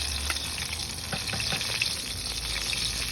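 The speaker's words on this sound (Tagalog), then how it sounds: "Samahan niyo po ako magluto ng cheesy Hungarian sausage" Cheesy Hungarian sausage fries in a pan for homemade fried rice, a steady close sizzle with light stirring scrapes over it.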